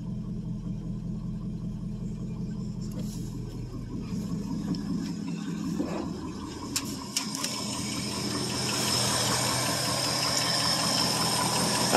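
A 1970 Ford F100 Ranger XLT pickup with a 390 FE V8, restarted cold after sitting about three years, idles with a steady, fairly loud low rumble close up, holding even and unbroken throughout.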